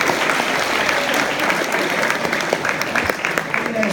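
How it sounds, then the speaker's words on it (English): Audience applause fills a hypnotist comedy show at a university, a dense, steady clapping from a crowd that holds loud and even throughout with scattered sharper claps. "Give her a big round of applause"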